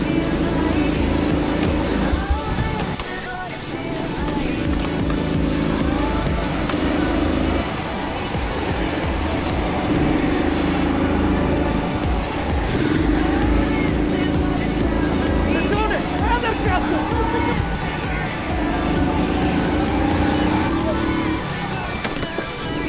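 Go-kart engines race around the Affi indoor kart track in a kart race, rising and falling in repeated revving waves with brief dips, loud and close, with speech over the engines throughout.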